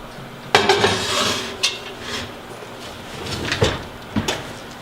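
A heavy lid goes back onto a pot holding three-day sourdough bread, with a sharp clank followed by a few more metallic knocks and scrapes close by.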